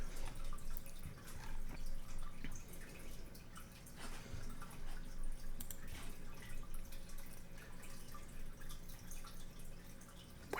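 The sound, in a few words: fish tank water bubbling in background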